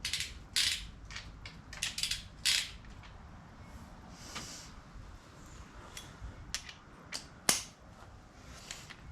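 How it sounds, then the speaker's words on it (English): Torque wrench clicking and ratcheting while tightening bolts on a 4.7L V8 engine during a Jeep WJ Grand Cherokee rebuild, with scattered sharp clicks and mechanical rattles at irregular intervals, one louder snap near the end, no talking. "Trusty old torque wrench is set."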